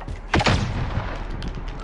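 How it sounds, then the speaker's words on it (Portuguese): A loud burst of gunfire in Call of Duty hits near the start, then decays into a rumbling echo over game background noise. "eu dei dois tiros só pra dar um sustinho no cara"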